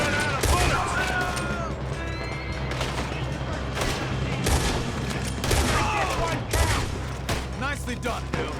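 Gunfight in Red Dead Redemption 2, dense continuous gunfire with overlapping rapid shots and booms, loud and chaotic throughout, with shouting voices mixed in.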